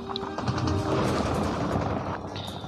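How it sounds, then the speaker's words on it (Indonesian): Rocket launcher fire in the video game Call of Courage, a dense, loud burst of blasts and crashing impacts over about three seconds with no talk. "Roket launcher."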